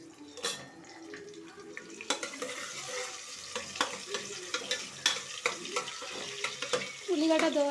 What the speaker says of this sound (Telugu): ఉల్లిగడ్డ దోరగా వరకు ఫ్రై చేసుకోవాలి